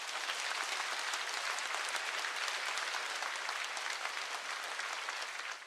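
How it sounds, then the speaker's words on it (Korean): Loud, sustained applause from a large audience opens an inauguration ceremony for a world president and national association head, dense steady clapping filling the hall without voices on top. "세계평화통일가정연합 세계회장과 한국협회장 이취임식을 큰 박수로 시작하겠습니다"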